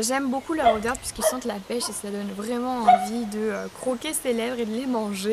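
A dog barks and yips in a neighbouring home, with short sharp calls recurring under a woman's steady close-up talking throughout.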